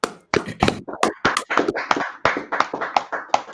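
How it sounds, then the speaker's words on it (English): Sharp, irregular hand claps ring out in quick succession, a small class group applauding nearby with no talking. "clap it up"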